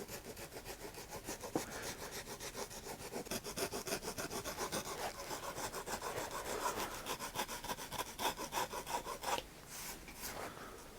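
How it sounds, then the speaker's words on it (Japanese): A flat rasp works across the top of a stacked leather shoe heel in quick, regular back-and-forth strokes, a close, gritty scraping rhythm that pauses briefly near the end. "このかかとの積み上げの上のところ、面やすりで整えていきます"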